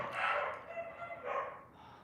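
Dogs bark outside, a few distant, muffled bursts of barking spaced across a couple of seconds in a quiet indoor space.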